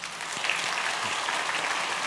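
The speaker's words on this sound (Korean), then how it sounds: "박수로 일어나실 때 박수로 환영하며 축복하겠습니다" A church congregation at a Sunday worship service applauds to welcome new members, a brief burst of dense, steady clapping filling the room.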